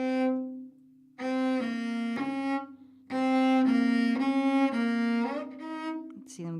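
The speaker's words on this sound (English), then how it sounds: "So this is shifting from first to third position." A cello plays a shifting exercise from first to third position, sustained bowed notes in short phrases separated by brief pauses, close and fairly loud with no talking.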